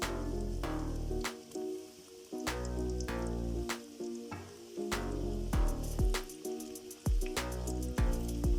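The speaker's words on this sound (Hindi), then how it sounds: "बस इसको 2 मिनट और फ्राई करूँगी मैं, उसके बाद इसको डिश आउट कर लूँगी" Bite-sized popcorn chicken pieces sizzle as they fry in hot oil: a steady, close crackle and hiss running throughout beneath prominent background music.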